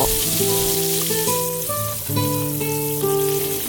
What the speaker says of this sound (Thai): โดยการเอากุ้งไปจุบแป้งแล้วก็เอาลุมทอดเจ้า อดกุ้งจนซุกเลิ้มกรอบอย่างอี้นะเจ้า